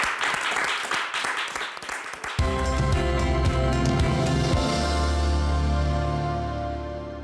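A television studio audience claps in sustained applause for a couple of seconds before music with a steady beat and sustained tones takes over and carries on alone.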